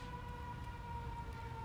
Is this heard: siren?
yes